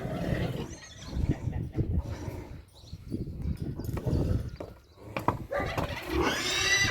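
A horse whinnies and snorts nearby amid shuffling, thumping movement, with a rising high-pitched neigh near the end.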